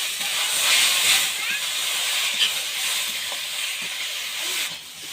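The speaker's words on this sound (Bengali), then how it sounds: "এবার চালটা দিয়ে দেবো।" Soaked rice is tipped into a hot, well-fried spice masala in a pan, setting off a loud, steady hiss of steam and sizzle that lasts several seconds, close up with no voices.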